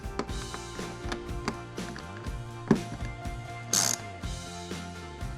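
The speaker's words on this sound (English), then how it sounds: "So we'll be using our T25 Torx. There are 4 screws to remove it." Ratcheting clicks and mechanical ticking come from a T25 Torx driver backing out the four panel screws on a Can-Am Spyder F3, steady close-up clatter with one brief louder knock and no talk.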